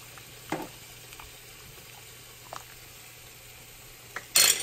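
Chayote being stirred into a simmering mung bean stew, a soft steady bubbling with a few brief clanks of the spoon against the pot and a louder scrape at the end.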